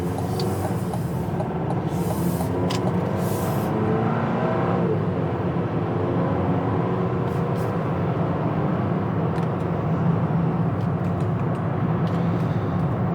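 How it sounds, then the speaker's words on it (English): Passing cars on a road at night, viewed from inside a 2025 Buick Enclave, give a steady, continuous roar of traffic throughout, with a few brighter swells as vehicles go by. "a lot of traffic out tonight"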